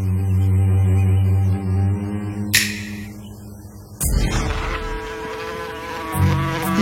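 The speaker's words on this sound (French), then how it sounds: "Il s'en revint sous la forme d'une mouche." Buzzing of a fly as Loki, transformed into one, returns to pester the smiths Brock and Eitri at work; a close, continuous droning whine that shifts pitch and drifts over about seven seconds, with other sound effects joining partway through.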